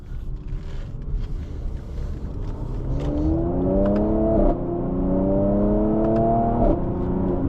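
A 2020 Mercedes-AMG C 43 engine pulls hard under acceleration, rising revs climbing through two upshifts with brief dips, heard from inside the cabin at moderate loudness.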